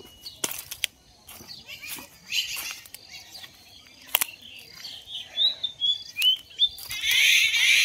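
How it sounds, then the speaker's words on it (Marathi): Sparrows chirping in a tree in a village, scattered bursts of tweets at middle distance that grow busier toward the end, with a few sharp knocks and no talk. "इकडं चिमण्यांची चालू आहे किलबिलाट त्या झाडावरती"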